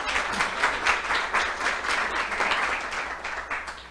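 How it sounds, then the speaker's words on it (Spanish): Applause from an audience at a training session on measuring production processes, a few seconds of rhythmic, fairly close clapping from a modest group that gradually eases off. "un aplauso"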